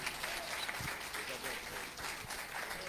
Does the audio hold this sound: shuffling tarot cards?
no